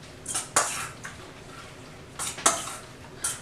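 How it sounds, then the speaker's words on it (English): A utensil stirs egg foo young egg mixture in a bowl, giving a handful of quiet, irregular clinks and scrapes against the bowl over soft background hiss. "So I'm going to stir this mixture."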